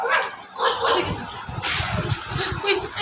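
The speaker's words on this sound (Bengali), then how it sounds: "ওই যে কুকুর ডাকছে দেখছে" A dog barks and yips outdoors near a house, a series of short, fairly loud barks over a few seconds with faint background noise.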